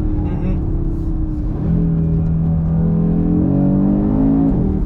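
A 2022 Audi RS3 with its 400 hp five-cylinder engine drifting on a track, rising and falling in pitch with a steady drone heard from inside the car, blended with people talking.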